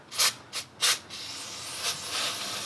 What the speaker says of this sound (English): Once you're done with that, use some brake cleaner